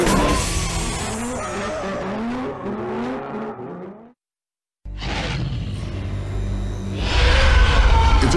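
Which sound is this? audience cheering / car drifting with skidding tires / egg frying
car drifting with skidding tires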